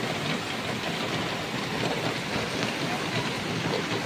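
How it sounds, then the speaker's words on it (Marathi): Heavy monsoon rain pours steadily over Mumbai, heard from indoors through a window as a dense, continuous hiss of drops drumming on surfaces, loud and unbroken throughout. "खिडकीमधनं बघा किती जोरात पाऊस पडतो ते बघा तिकडे."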